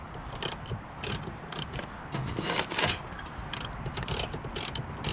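Ratchet wrench with a 12mm socket working plastic-rubber tail light bolts on a Chevy Caprice, rapid rattling clicks in short bursts, close and moderately loud, no speech.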